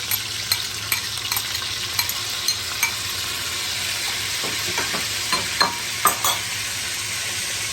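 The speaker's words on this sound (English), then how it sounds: "And you're going to stir it." Chorizo and sofrito stirred in a pot for beer chicken and rice, a steady close sizzle with light scraping taps of the spoon scattered through, no talking.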